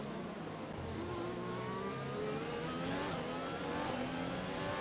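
Formula 1 race car engine from the F1 2020 video game, a Red Bull with a Honda engine, revving steadily with rising and falling pitch sweeps, loud and continuous throughout with no talk.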